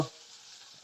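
Tomato and onion frying in a pan for sambar, a short, faint sizzle with a light stirring scrape, heard alone and close.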